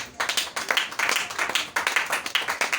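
A church congregation at a Sunday service claps together in acclaim. The steady, fairly quick rhythmic claps sound moderately close and continue throughout, with no speech over them.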